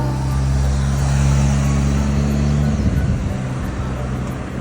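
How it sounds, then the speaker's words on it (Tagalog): Cars moving along a street in Japan: a steady, close, low engine rumble that shifts in pitch as the vehicles slow and move off, set against broad road noise with no talking. "hihinto yung mga sasakyan."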